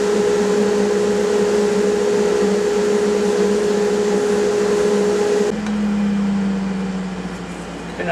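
A sharp half-inch bowl gouge cuts a cypress bowl on a lathe, giving a loud, steady whirring drone with a constant tone that shifts pitch partway through, alone with no voices.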